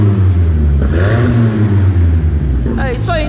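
Toyota Corolla GLI 2.0 with an exhaust diffuser revs its engine, a loud, steady droning exhaust note that rises in pitch, while someone talks over it near the end.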